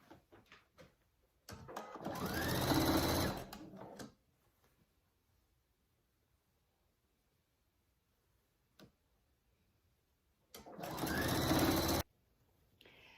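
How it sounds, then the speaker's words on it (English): A sewing machine stitches straps onto a joey pouch in two loud close bursts of rapid motor-driven stitching, each a couple of seconds long, separated by a quiet stretch with faint handling clicks. "let's go ahead and sew this up"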